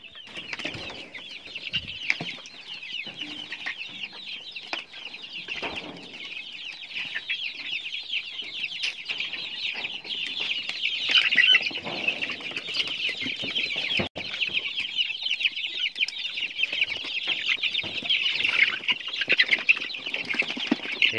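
Free-range village chickens cluck and chatter continuously while eating a mix of wheat and maize, a busy close flock with occasional louder calls and wing movements.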